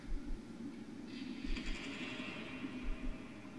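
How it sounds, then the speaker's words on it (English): A door in the Heathcote horror game swings open by itself, a faint creaking sweep that rises over steady low room rumble with a few soft thuds, sounding somewhat distant. "One of the doors just opened on its own."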